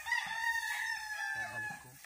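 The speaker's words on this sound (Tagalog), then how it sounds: "Ng mga stray chicken, mga chicken ng kapitbahay." A neighbour's stray chickens cluck and a rooster crows in a yard where garden soil is being prepared. The calls are close and fairly loud, overlapping across the whole stretch with no one talking.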